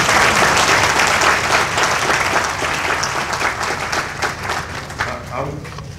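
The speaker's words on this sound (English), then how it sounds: "Let's give Sister Rena another round of applause." A banquet crowd's applause at an annual awards dinner starts loud and dense, then thins out into more scattered, individual claps as it gradually fades over several seconds.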